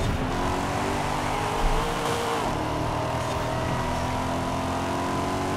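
A Chevrolet race car engine roars in Forza Horizon 5 at the Horizon Mexico Circuit, a loud, continuous whine with shifting pitch as the car accelerates and changes gear, heard alone without any voices.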